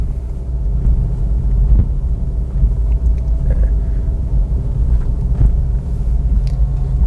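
A car pulls away on an uphill slope at around 2000 RPM as the handbrake is released, its engine a steady low rumble close by, without any speech.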